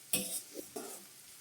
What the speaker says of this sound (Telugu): ఆనియన్ మగ్గడం టైం ఉంది కాబట్టి కొంచెం సిమ్లో పెట్టుకొని మూతతో కవర్ చేసుకున్నాం